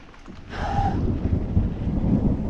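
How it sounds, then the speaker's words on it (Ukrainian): Low rumbling thunder rolls through a mountain bike trail setting, a broad steady growl that swells after the first half second and holds fairly loud with no talk over it. "І мене переслідує грім."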